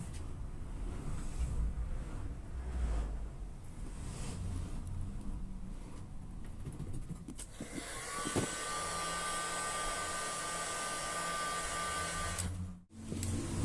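A heat gun blows a steady, close airy roar while shrinking heat-shrink tubing onto a cable during a car wiring repair, the hiss shifting in tone partway through before briefly cutting out.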